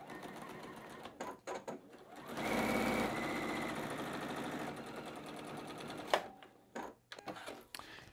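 A sewing machine stitches batik quilt block pieces, running in a steady buzzing whir for several seconds, close up, with fabric handling clicks and rustles before and after.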